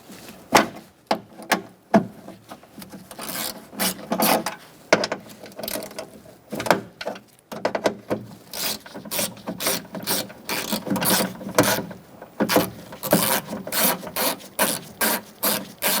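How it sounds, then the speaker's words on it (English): Ratchet wrench with a 10mm socket backing bolts out of a 2002-2006 Honda CR-V rear door while swapping the power window motor and regulator, giving quick close clicking bursts in uneven runs with brief pauses. "next I'm going to take out these two bolts"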